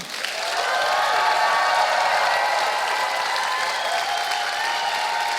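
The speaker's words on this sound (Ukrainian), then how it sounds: "вони нам будуть плескати" Sustained audience applause from a crowd at a live comedy show, steady broadband clapping that swells quickly and holds at a loud, even level throughout.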